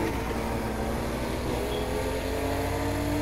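A small car's engine in a racing video game hums steadily with a constant, dense drone that slowly rises in pitch, alone without talk.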